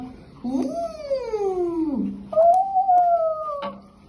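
A person imitates a dog with long, sliding howl-like calls, two drawn-out wavering cries in a row, close and fairly loud.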